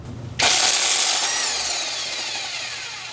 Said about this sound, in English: the impact wrench is the best idea for doing this job